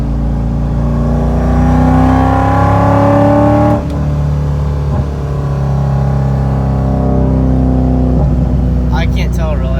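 A Chevrolet Corvette C5 fitted with an aftermarket eBay intake revs hard in third gear, a loud, close engine note climbing steadily in pitch, dipping briefly at a shift and then pulling again, heard from inside the cabin.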